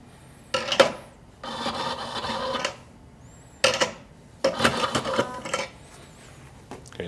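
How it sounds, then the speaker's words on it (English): An espresso machine's built-in auto tamp compresses coffee grounds in a few loud, close bursts of grinding, rasping mechanical whirring, each lasting about a second with short quiet gaps between. "Let's do an auto tamp."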